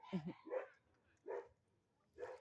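A few short, soft dog barks and yips, spaced apart, fairly faint and a little distant.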